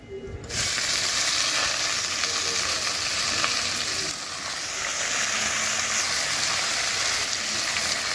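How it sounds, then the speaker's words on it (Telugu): Ivy gourd pieces drop into hot tempering oil and a loud, steady sizzle erupts after a brief quiet start, holding close and continuous with a slight dip midway as the pan is stirred. "దొండకాయలు వేసుకోవాలి"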